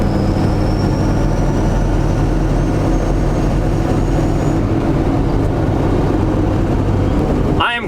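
A 750hp LBZ Duramax diesel-swapped Hummer H1 drives along, a loud, dense low-frequency rumble and drone heard from inside the cab, steady throughout with a brief change at the very end.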